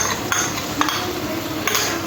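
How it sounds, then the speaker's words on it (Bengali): Beaten sour yogurt being stirred into spices in a pan for cauliflower curry, with soft scraping and a few light clinks of the spoon against the metal repeating at a steady pace. "টক দইটাও খুব ভালোভাবে মিশিয়ে নিতে হবে"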